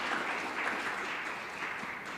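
Steady applause from a church congregation offering praise, a dense even patter of many hands lasting the whole stretch at moderate distance, with no talking over it.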